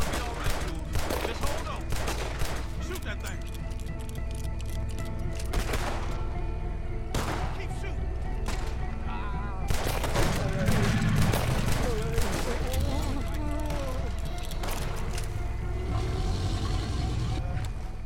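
Frequent gunshots in Red Dead Redemption 2, sharp cracks scattered over a continuous backdrop of game music and ambience, with talk in places.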